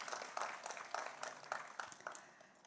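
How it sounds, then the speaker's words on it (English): Audience applause at a high-level forum for International Women's Day: soft, dense clapping from a crowd heard at a distance, steady at first and gradually thinning out. "I think we can applaud them"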